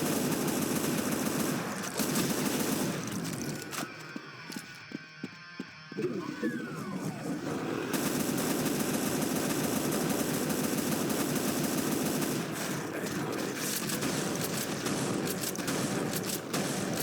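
Guns firing in Brutal Doom, a dense stretch of rapid loud gunfire bursts with chattering automatic fire. A short gap partway through gives way to more shooting, with someone talking over the action.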